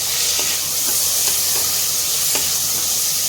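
Chopped tomato sautéing in a pan for coconut milk rice, giving a steady loud sizzle and hiss with a few soft scraping stirs breaking through at intervals.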